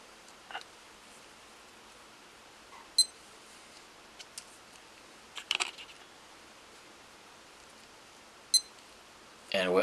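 Camera beeping as recording restarts, a few short sharp electronic beeps scattered over a quiet room, close and brief, with small clicks and handling noise between them.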